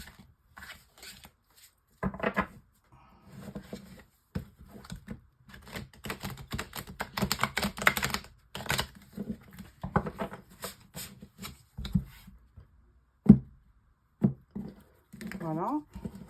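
Tarot cards from an Encore Tarot deck are shuffled and laid out in a twelve-card spread, making soft papery riffles, slides and light taps that come in scattered bursts, close and fairly quiet, with a voice speaking at times.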